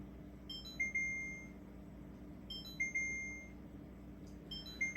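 A kitchen timer beeps in short repeated bursts at the end of water-bath canning of tomatoes, three clear beep groups spaced about two seconds apart over a low steady background hum.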